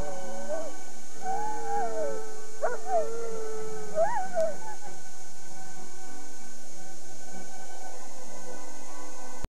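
Two dogs howl in long, wavering, mournful tones that rise and fall over a quiet background, overlapping at first and then trailing off into near silence.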